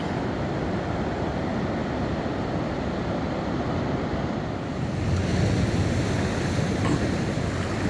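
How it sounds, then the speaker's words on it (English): Ocean surf rolls onto a Florida beach at evening as a continuous loud wash of breaking waves, mixed with steady wind rumble against the microphone, with no voices. "enjoying the surf coming in"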